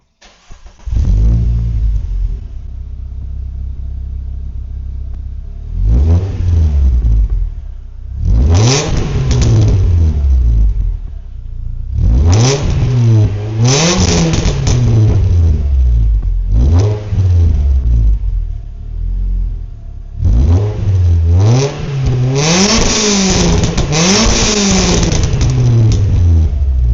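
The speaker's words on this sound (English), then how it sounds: "That's the sound of this exhaust." A Renault Clio RS200 track car with a gravity catback exhaust starts and revs repeatedly, loud and close, in several separate bursts that rise and fall with brief idle gaps between them.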